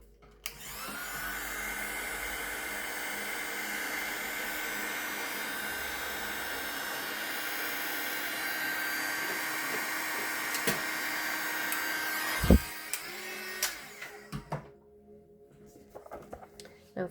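A hair dryer blows steadily on a small watercolor painting of a night sky and mountains on a bookmark. It makes a loud, even whoosh for about twelve seconds, then cuts off, followed by a few soft knocks and handling sounds.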